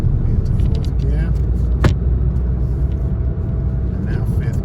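A car pulling away on a test route as the driver shifts into fourth gear and gets back on the gas, a steady close engine rumble with an instructor-style voice talking over it.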